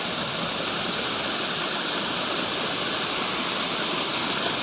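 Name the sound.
creek stream flowing with snow melt water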